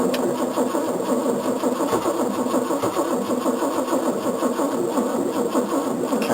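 A cold car engine cranks and catches at about 4 degrees Celsius, then runs with a rough, steady mid-pitched chug, close and loud, with no voices.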